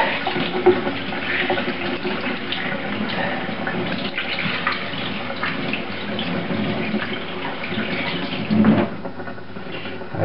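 Tap water running steadily to rinse out a freshly filleted bass, with a continuous close splashing stream over a sink throughout.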